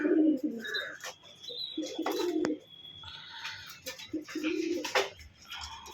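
Pigeons coo repeatedly in low, throaty bursts from a loft of birds kept for sale, with occasional higher chirps and tweets mixed in and a steady background of other birds.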